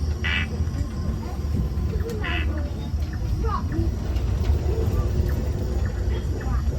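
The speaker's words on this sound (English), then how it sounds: "a toki gecko's greeting," A tokay gecko gives a couple of loud, croaking calls early on, over a continuous hum of nocturnal forest insects at Singapore's Night Safari.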